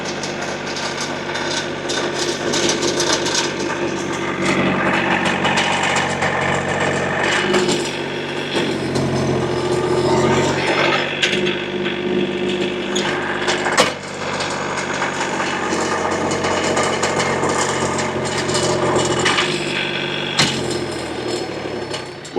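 A gasoline engine-powered auger digging a fence post hole in very dry, hard ground, droning steadily and loudly for the whole stretch with grinding, scraping texture and slight dips as the bit bites and sticks.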